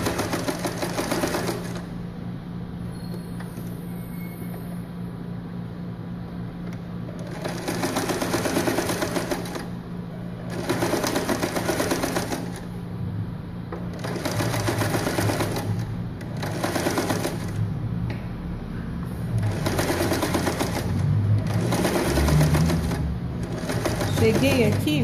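A sewing machine stitches fabric for a collar in several loud whirring bursts separated by pauses while the fabric is turned and the presser foot lowered, with a person talking between the runs.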